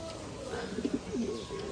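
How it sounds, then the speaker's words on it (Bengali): Pigeons coo softly nearby outdoors in the sun, a few low rolling calls over quiet background. "ভালোই উঠতেছে কবুতরগুলা"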